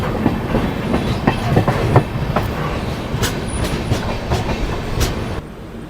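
Triveni Express passenger train rolling into Unchahar Junction, with a steady rumble and rhythmic clickety-clack of wheels over rail joints, faint squeals, close and continuous, fading slightly at the end.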